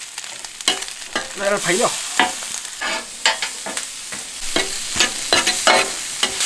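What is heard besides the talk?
stir-frying pork intestines on a stove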